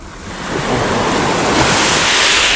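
Sea waves wash onto the shore during a squid fishing outing, with a loud, steady rushing surge that swells after the first half second, mixed with wind buffeting the microphone.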